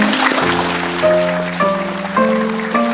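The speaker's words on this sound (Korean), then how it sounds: "이제 표주박잔이 하나로 합쳐질 때 크게 축하의 박수 주십시오" Wedding guests applaud the couple at a traditional Korean wedding ceremony as the gourd cups are joined. Steady clapping runs beneath loud, sustained traditional music throughout.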